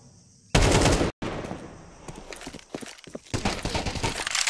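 Rapid pistol gunfire from Deagles and Five-sevens rings out in a Counter-Strike esports match on the Ancient map, with loud bursts of shots and scattered cracks and footsteps between volleys.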